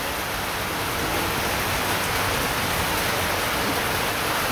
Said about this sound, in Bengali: যেভাবে বৃষ্টি নামছে